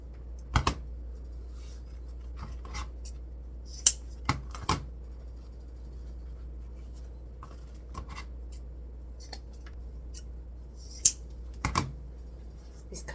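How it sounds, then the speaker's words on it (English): Scissors snip ribbon tails at a slant for a wreath, leaving sparse sharp clicks and crisp cuts, some in quick pairs, close by over a low steady hum with no speech. "Just fold it on itself and cut it aslant."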